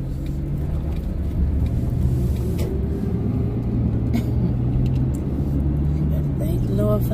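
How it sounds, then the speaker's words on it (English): A garbage truck drives past on a street, a heavy low diesel rumble holding steady throughout, fairly loud and near. "Thank the Lord for that garbage truck."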